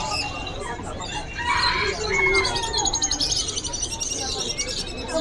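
Cucak ijo (green leafbird) and other birds sing at a busy Indonesian bird market, bright chirps and whistled phrases layered over dense crowd chatter and background noise.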